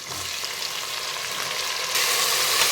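Tomatoes sauté in a frying pan with a loud, continuous sizzle that swells slightly toward the end, close and with no voices.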